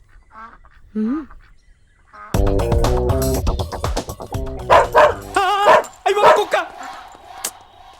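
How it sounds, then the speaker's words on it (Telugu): A dog barks in a comedic film scene: a few short barks near the start, then a loud burst of busy, overlapping sound and voices. "కుక్కుంది అక్కడ."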